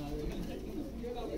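Breeder pigeons coo in a low, steady murmur close by, a quiet rolling sound that runs throughout with some faint voice underneath.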